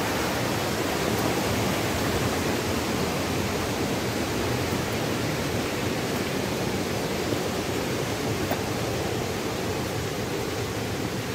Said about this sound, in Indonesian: sungai di samping dusun Brigasan Lor ini